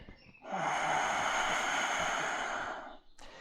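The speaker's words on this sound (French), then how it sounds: "Cherchez à avoir un ujjayi, une respiration sonore." One long, audible ujjayi breath during a yoga session, a steady hissing airflow close to the microphone lasting a couple of seconds, then easing off, with no talking.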